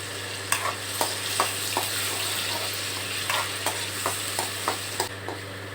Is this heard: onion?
yes